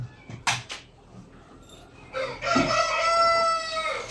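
A rooster crows loudly nearby in one long drawn-out call, after a few brief scattered noises at the start.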